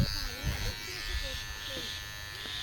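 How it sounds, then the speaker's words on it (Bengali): An electric hair clipper cuts an elderly grandfather's hair, a steady close buzz running the whole time beneath continuous conversational speech. "মোদির মতন কাটি তো, মোদির মতন"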